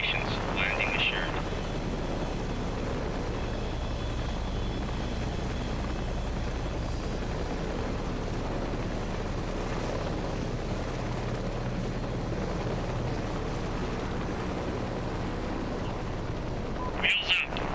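A military helicopter in the combat game Heliborne Enhanced Edition holds a steady, loud rotor and turbine drone throughout, with a few brief clicks at the start and end and no speech.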